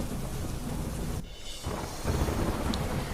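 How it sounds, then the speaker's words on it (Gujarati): Heavy torrential rain pours down in a dense, steady roar, with a brief dip partway through before the downpour surges back, loud and continuous, with no voices. "અવિરત મુશળધાર વરસાદથી નદીઓમાં પાણીની ભારે આવક"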